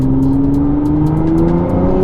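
A Nissan GT-R accelerates hard, its engine note climbing steadily in pitch as it pulls, loud and close with a strong continuous drone and a rumbling low end throughout.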